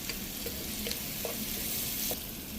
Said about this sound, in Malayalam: ഇനി ഇതിലേക്ക് നമുക്ക് ഒരു ടീസ്പൂൺ നെയ്യ് ചേർത്ത് കൊടുക്കാം. നന്നായിട്ടൊന്ന് ഇളക്കി കൊടുക്കുക.